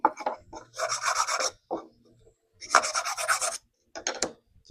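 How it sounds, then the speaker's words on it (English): Oak pieces rubbed back and forth over sandpaper to round edges and remove burrs, giving three bursts of dry rasping scrape with short pauses and a few clunks between, close by with no talk. "I'm just going to run the pieces over some sandpaper a little bit"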